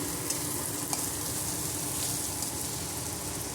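Beaten eggs frying in a hot pan for egg puttu produce a continuous, even sizzle with a couple of faint clicks, fairly quiet and close, with no one speaking.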